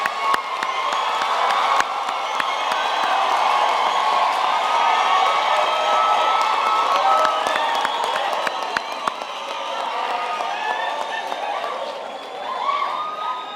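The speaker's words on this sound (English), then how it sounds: "I think we can give them another hand of applause" A graduation ceremony audience fills the hall with sustained applause and scattered cheers and whoops, a dense, steady wash of clapping that holds for the whole stretch and swells slightly near the end.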